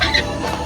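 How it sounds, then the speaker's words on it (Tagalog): A backyard gamefowl chicken gives a single short cluck, close and fairly loud, lasting under a second with no talking over it. "Sa lahat ng aking mga manok, ito yung aking pinakapaborito."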